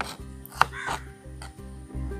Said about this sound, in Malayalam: ആദ്യം തന്നെ നമ്മൾ ചെറുനാരങ്ങ കട്ട് ചെയ്യുന്നു കേട്ടാ.